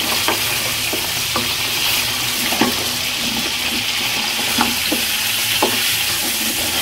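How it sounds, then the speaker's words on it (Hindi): Meat and bones sizzle steadily as they fry in a pot for nihari, with intermittent scraping clicks of stirring over a continuous hiss. "हड्डी शामिल कर दी, अब मैं इसको थोड़ा सा भूनूंगी।"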